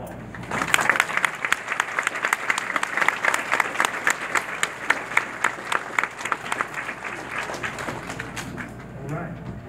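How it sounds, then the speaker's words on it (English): A graduation audience applauds the teachers in a steady, dense patter of clapping lasting most of the clip, fairly close and loud. A few voices murmur underneath, and the clapping fades near the end. "I also want to take a minute and give your teachers a round of applause."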